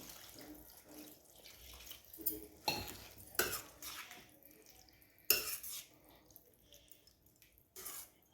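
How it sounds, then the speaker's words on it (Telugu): Water pours faintly into a pan of fried potato curry ingredients amid scattered clinks and knocks of metal cookware, with a few sharper clatters. "ఇప్పుడు సరిపడా వాటర్ పోస్తున్నాను."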